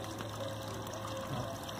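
A solar-powered bilge pump circulates pool water, giving a steady, low watery hum with faint trickling on top, constant and unbroken throughout, with no voices.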